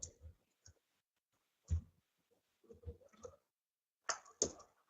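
Mouse clicks at a computer, several quiet, isolated clicks spaced unevenly with long gaps of silence between them.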